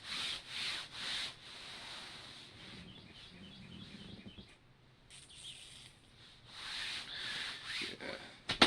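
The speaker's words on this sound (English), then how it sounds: "I love the sound of all the snow gear." Soft snow gear clothing rustles and swishes in quiet, irregular bursts, close by, with brief pauses between rubbing movements and no talking.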